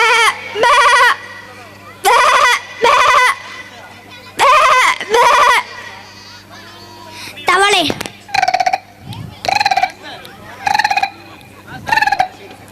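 A person mimics a sheep's bleat in a stand-up mimicry act at a school annual day, with a series of loud, wavering bleat-like calls in short bursts and other animal imitations mixed in.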